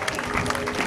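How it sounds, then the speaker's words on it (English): Dense applause from a crowd at an open water swimming event at Harvey Dam, Western Australia, steady clapping throughout, with a voice faintly audible beneath. "Big round of applause here."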